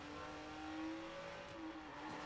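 A car engine hums and rises in pitch as it drives in Watch Dogs, a steady tonal revving that dips and climbs briefly, faint and close.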